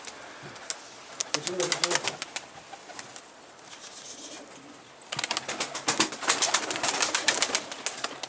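Çorum tumbler pigeons and their young flap their wings in loud, clattering bursts, with soft cooing in between. A person talks nearby.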